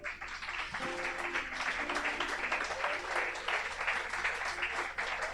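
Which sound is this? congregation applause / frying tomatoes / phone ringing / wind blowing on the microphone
congregation applause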